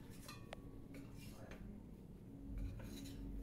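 A spoon stirs almond halwa (badam shira) in a pan after ghee is added, with scattered metallic clinks and scrapes against the pan over a low steady background hum.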